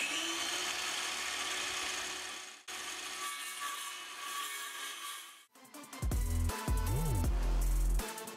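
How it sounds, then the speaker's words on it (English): A circular saw plunge-cuts into an antique wooden dresser. Steady rasping wood noise gives way to louder, bursty cutting strokes near the end, close and with no talk. "using my circular saw, just because it's a little bit easier on these cuts right here"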